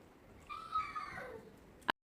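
A voice imitating a cat's meow, a single drawn-out, wavering call in a quiet classroom setting, ending with a sharp click.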